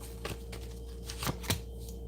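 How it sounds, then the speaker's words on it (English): Tarot cards are shuffled close by in a few soft riffles and slaps, with distinct louder snaps near the end over a steady low electrical hum; no one speaks. "let me just shuffle these real quick"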